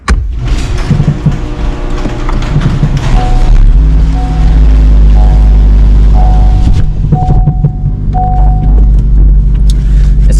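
A Honda Civic Type R with an upgraded shifter is driven at night, a loud, steady low engine and road rumble filling the cabin, with engine tones rising and settling through gear changes and some wind noise.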